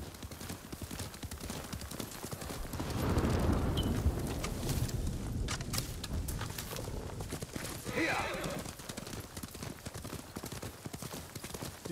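Horse galloping in Ghost of Tsushima, a steady stream of hoofbeats across rough terrain, loud and close, with game ambience and a brief whinny-like sound partway through.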